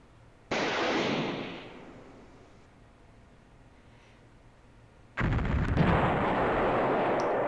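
Artillery firing in the WinSPMBT war game during a Greece versus Turkey battle: two loud, close booming blasts several seconds apart, the first trailing off into a fading rumble, the second sustained and heavy.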